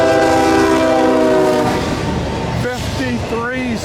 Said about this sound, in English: we have intermodal I-044 coming through town. Tracks right through downtown.